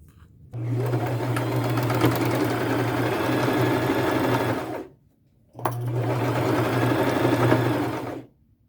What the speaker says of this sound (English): and I will do a 1/4 inch seam allowance around these three sides, and I'll do it twice